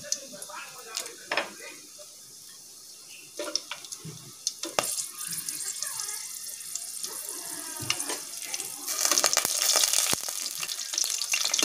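Dried red chillies, bay leaf and whole garam masala with green chillies dropped into hot white oil, a faint crackling sizzle with scattered clicks and stirring, rising louder and busier toward the end.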